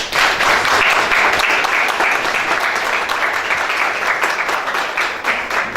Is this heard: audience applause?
yes